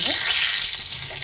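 Cumin seeds and a bay leaf frying in hot oil make a steady, close, hissing sizzle that holds even throughout, with no talk over it.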